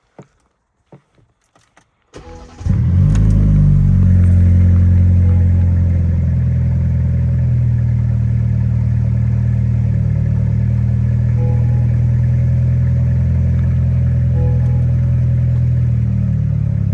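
A BMW G20 engine cranks and catches after some brief clicks, then settles into a steady, loud idle close by with a low, even rumble that holds unchanged to the end.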